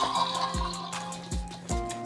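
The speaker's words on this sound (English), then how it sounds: "So this actually has a real flusher." A toy potty-training toilet's flusher plays a watery flushing sound effect, with electronic tones and repeated gurgling swoops, close and clear.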